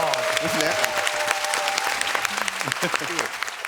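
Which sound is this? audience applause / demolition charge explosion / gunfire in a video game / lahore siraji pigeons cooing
audience applause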